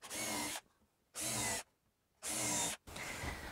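Power drill driving screws through the top of a wooden coffee table into its support underneath, in three loud bursts of about half a second each, separated by short quiet gaps and followed by a lower rumble.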